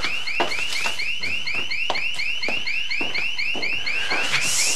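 A security alarm rings loudly and without pause. Its rapid electronic whoops repeat in a fast, even rhythm for the whole stretch, with no talking.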